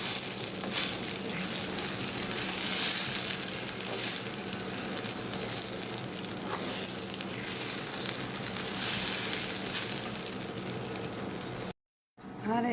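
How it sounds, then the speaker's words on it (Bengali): Rice fries in ghee in a pan for biryani, giving a steady, close hiss that runs for about twelve seconds before a brief cutoff near the end. "চাল যত ভাজবেন আপনারা বন্ধুরা তত ভালো হবে"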